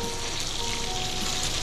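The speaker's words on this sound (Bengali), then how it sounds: "খুব কড়া করে ভাজবো না," Food frying in a pan in a home kitchen, a steady, close, moderately loud sizzle that runs without a break, with no one talking over it.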